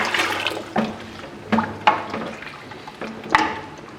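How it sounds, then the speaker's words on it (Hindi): A jug of water poured into kadhi in a pot while it is stirred, splashing sloshes and repeated scraping stirs in an uneven rhythm, close and fairly loud with no talk. "अब मैं इसके अंदर 1 जग पानी डाल दूँगी और चमचा चलाते रहें।"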